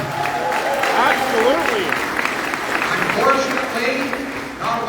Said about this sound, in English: Unfortunately, yes, you can applaud that.